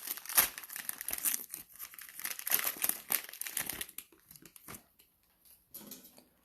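Cello packs of 2019-20 Mosaic basketball trading cards being ripped open, with bursts of close crinkling and tearing plastic in quick succession before trailing off into quieter rustles.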